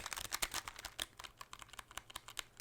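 Rapid typing on a mechanical keyboard with brown tactile switches, a quick uneven patter of soft clicky keystrokes, close and fairly quiet.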